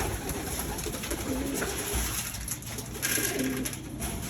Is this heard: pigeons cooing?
yes